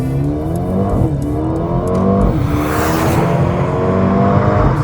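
A 2022 Mercedes-AMG CLA 35 accelerates hard on the throttle, its engine note climbing through close, loud, repeated upshifts in a steady revving sweep.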